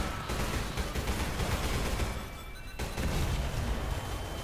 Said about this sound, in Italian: Attenzione che sparano qua